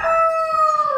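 A rooster crows loudly and close by in a single sustained call lasting about a second, with chickens around it.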